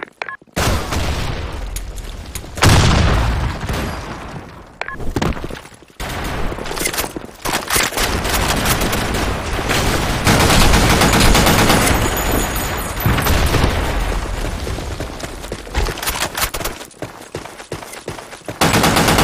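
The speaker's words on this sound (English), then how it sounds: "Grenade!" Rapid gunfire bursts and a grenade blast in a desert-map shooter game, loud and dense throughout with sharp pops and booms, brief gaps between volleys.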